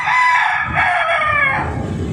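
A rooster crows once, loud and near, a long strained call that rises and trails off over about two seconds.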